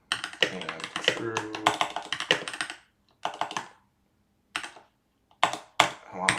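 Rapid clattering keystrokes on a new mechanical computer keyboard, loud and close, typed in bursts with short pauses between runs.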